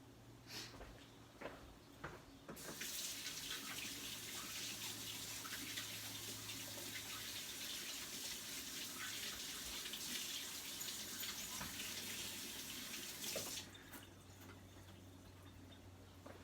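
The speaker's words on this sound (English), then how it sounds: "let me rinse my hands" A water tap runs steadily into a sink while hands are rinsed after cleaning a round fish, a soft continuous splashing rush lasting about eleven seconds between quieter handling sounds.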